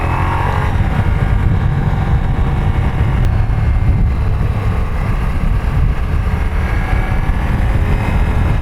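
A Ducati Multistrada V4S engine hums steadily on an Alpine ride, a constant loud drone with wind rush throughout and no talk.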